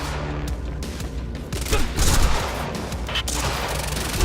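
Sniper gunshots in the video game Quantum Break: sharp, heavy reports and crashing impacts over a continuous, noisy battle din, with a louder blast near the middle.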